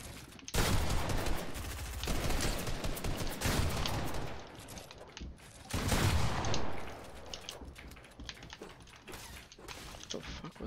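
Rapid gunfire in the video game Fortnite, loud bursts of shots over about ten seconds with short pauses between volleys, mixed with keyboard clicks and players talking.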